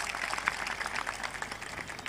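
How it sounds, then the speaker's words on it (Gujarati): A faint, steady patter of audience applause at a religious gathering for Bajrangdas Bapa in Bagdana, the clapping dense and distant with no other sound standing out. "એને તાળીઓથી વધાવો એકવાર"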